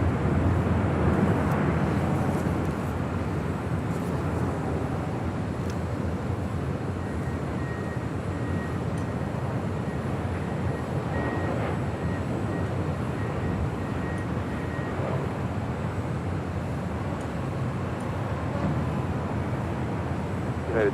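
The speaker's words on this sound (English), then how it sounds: "It's a 737 MAX 8." An Air Canada Boeing 737 MAX 8 arriving at Los Angeles International Airport, a steady distant jet roar holding at an even level throughout, with no talking.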